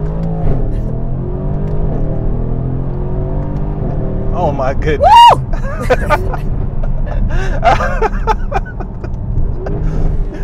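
A Mercedes-AMG GLC 63 Coupe accelerating hard from inside the cabin: a steady engine drone swells into a loud, rising rev with rapid gear changes, while a person exclaims over it.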